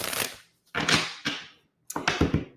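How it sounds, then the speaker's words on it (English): Tarot cards being shuffled in three quick bursts of crisp riffling and snapping, close and fairly loud, with short silent pauses between them. "One more shuffle."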